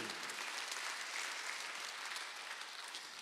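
A church congregation at a Thanksgiving Sunday service bursts into sustained applause, dense and even, heard from some distance and fairly quiet, with no voice over it.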